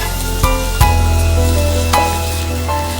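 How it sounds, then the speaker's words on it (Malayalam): Onions softening in a pan for a Chinese-style pepper squid, giving a steady close sizzle with a few sharp clinks of a utensil against the pan, and no talking. "ഇപ്പോൾ ഉള്ളി പാകത്തിന് വാടിക്കഴിഞ്ഞു."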